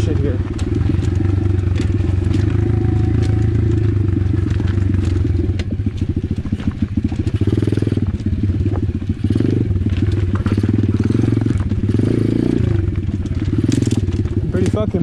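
Chinese 125cc pit bike riding over a rocky trail, its engine droning loud and close throughout with constant crunching and clattering of rocks under the tyres.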